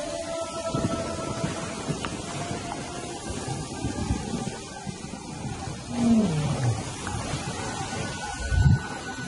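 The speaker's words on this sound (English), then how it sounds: "An unfamiliar roar. Nomads from upriver." Deep, drawn-out roar of an unfamiliar male lion, a nomad from upriver, carried from a distance over wind and rustling bush, swelling twice before fading.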